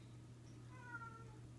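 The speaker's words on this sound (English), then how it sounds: "Excuse the cat in the background." A single faint meow from a cat playing with a toy somewhere in the room, brief and soft over the low steady hum of a 1987 Lakewood 20-inch box fan.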